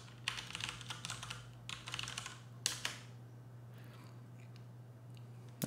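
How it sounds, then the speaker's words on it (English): Computer keyboard typing in bursts of rapid clicks, a yum install command being entered on a Fedora 20 system, with pauses between runs of keystrokes over a steady low hum. "trying to type this in without typos"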